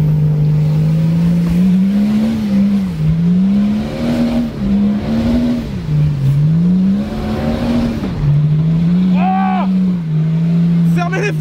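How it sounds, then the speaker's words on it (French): A BMW six-cylinder diesel engine revs up and down in repeated waves, its deep steady drone swelling and dipping loudly and close, with a brief higher whine near the end and no talk. "Oh le bruit du diesel, du 6 cylindres."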